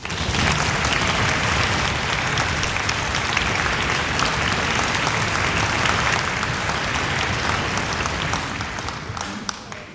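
An orchestra concert audience gives a string quartet a loud, dense, continuous round of applause that holds steady for several seconds before easing slightly at the close.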